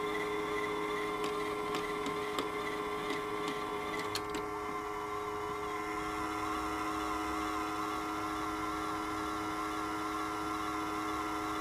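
A Toshiba KV-4000 V-Cord VCR with a fault, running its mechanism in rewind: a few quick clicks and ticks at first, then a steady mechanical whir and hum, fairly quiet.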